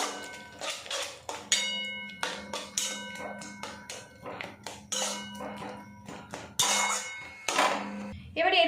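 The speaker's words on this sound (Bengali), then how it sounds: "এইভাবে একটু নাড়াচাড়া করে ডো বানিয়ে নেবো" Potato, rice flour and semolina dough stirred in a pan over a low gas flame, with a steady series of close, clattering spoon-on-metal scrapes and knocks; no voice is heard.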